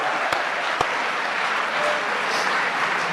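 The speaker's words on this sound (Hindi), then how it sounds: "एक बार जोरदार तालियां।" Sustained audience applause at a Hindi comedy poetry show, a steady dense wash of clapping with a couple of sharp claps standing out near the start, no voices over it.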